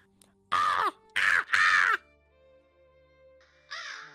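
Three loud, close crow caws in a video game, each harsh call lasting under half a second, followed by a quieter caw after a low electronic hum.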